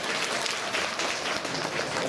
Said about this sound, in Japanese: みんなゆりに応援の拍手だ